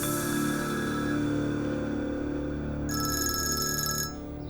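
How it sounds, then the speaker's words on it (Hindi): A telephone rings indoors in a Turkish drama scene, a bright electronic ringtone sounding steadily for about a second near the end over a soft background hum. "तुम्हारे बाबा का फोन है"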